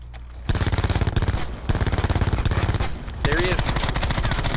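Rapid, loud automatic gunfire in Call of Duty: Blackout, hammering in sustained rhythmic bursts with a brief pause, while a player speaks briefly over the shooting.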